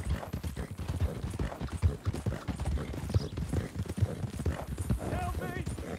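Horse hooves clip-clop in Red Dead Redemption 2 as a rider moves along, a steady brisk rhythm of close, loud hoofbeats under continuous talking, with a short whinny near the end.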